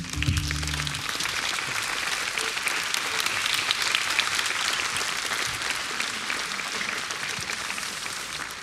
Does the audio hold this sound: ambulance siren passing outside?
no